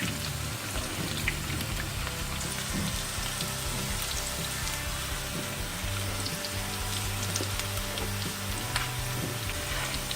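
Potatoes frying in a pan for dum aloo, cooked until crispy, giving a steady dense crackle and sizzle like rain that runs without a break, with a low background hum underneath.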